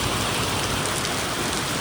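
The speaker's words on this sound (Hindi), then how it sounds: "वैसे शुरू हो चुकी है बहुत तेज वाली बारिश, देख रहे हो" Heavy rain pours down at the Haridwar bus stand, a dense, steady roar of drops striking surfaces, loud and continuous throughout with no pauses.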